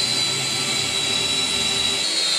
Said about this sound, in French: il est très très bien le drone